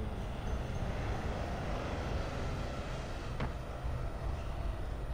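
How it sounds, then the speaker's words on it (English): Broad airplane drone in the Dying Light 2 video game, a steady engine roar filling the low and mid range as the aircraft passes overhead, continuous and fairly loud throughout, with no talking. "Ooh, a plane!"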